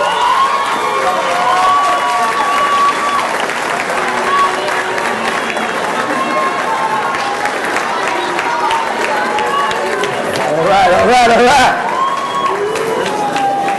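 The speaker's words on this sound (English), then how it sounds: "give your family a big round of applause for their sacrifice" Graduates at a ceremony turn to applaud their families, a loud, sustained wash of clapping mixed with cheering, whoops and crowd voices, swelling near the end.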